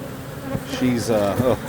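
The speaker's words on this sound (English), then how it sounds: "tried to shake the bees off" Close, steady buzzing of many honeybees swarming around a hive frame, with wavering tones as individual insects fly near.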